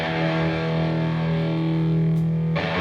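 A rock song plays on a radio broadcast: loud, dense distorted electric guitars and driving band, continuous without talk, then a brief cut near the end.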